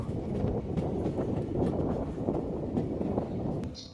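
The 13142 Teesta Torsha Express rolls into Jalpaiguri Road railway station, a steady, moderately loud rumble of wheels and carriages that holds evenly throughout with no voices.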